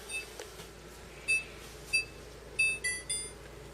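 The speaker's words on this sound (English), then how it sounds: "Set a timer." A kitchen timer beeps in short bursts while snickerdoodles bake, five separate bright electronic chirps spaced irregularly over a quiet room, fairly close and clear.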